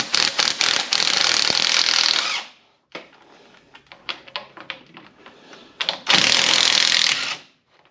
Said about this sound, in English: And to get the old lazy man ratchet. Crack it loose a little bit.